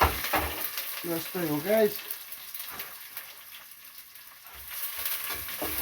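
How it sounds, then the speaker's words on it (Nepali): Thukpa cooking in a pan, with a steady sizzle and stirring noise running throughout as a person speaks briefly near the start. "पाक्दैछ हो आजको थुक्पा जाडोमा।"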